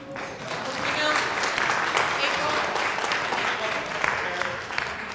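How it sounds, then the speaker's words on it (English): A town hall audience applauds steadily and fairly loudly for about five seconds, a dense wash of clapping with a few voices mixed in. "You can applaud if you want."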